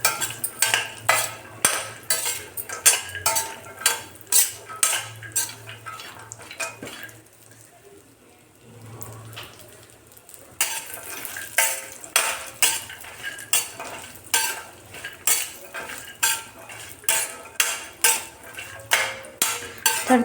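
Cashews, almonds, pistachios and walnuts roast in a small amount of ghee for dink laddu, stirred with a rhythmic run of loud, clinking spoon-on-pan scrapes that stop for a few seconds midway and then resume.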